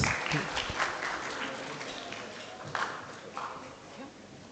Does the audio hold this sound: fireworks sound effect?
no